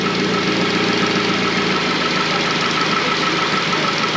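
The engine of a 2015 Mitsubishi Outlander, fitted with a new AC compressor, idles steadily and close by, a constant low rumble with no talk over it.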